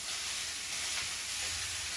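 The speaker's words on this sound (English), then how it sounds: "And so we got the meat cooking. Oh, it's real loud." Meat frying in a skillet on a home stove gives a steady, loud, close hiss and sizzle that continues without a break, with no one talking.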